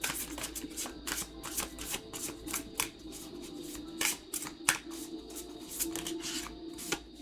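Tarot cards being shuffled by hand, a quick run of crisp riffling and snapping bursts, close and steady for several seconds with no talking.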